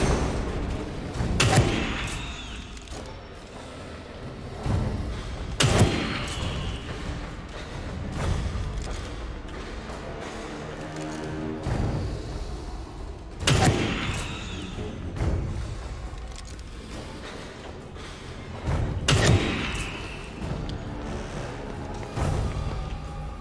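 Gunfire in The Evil Within 2 survival horror game, with about four heavy, booming shots spaced several seconds apart over a low, murky ambient bed, fairly close and loud.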